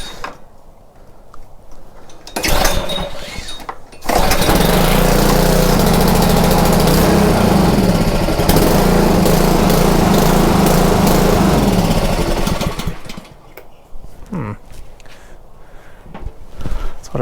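A Karcher pressure washer's small engine running on choke during a hard-starting problem: a few sputtering bursts, then a loud, steady roar for about eight seconds before it dies back to quieter handling noises.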